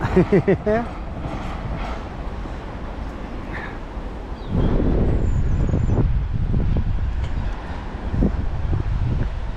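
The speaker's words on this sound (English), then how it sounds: "Oh, and we've got a train going past." A train rumbles past nearby in the Kent countryside, a steady low roar with clattering, mixed with outdoor wind and traffic noise.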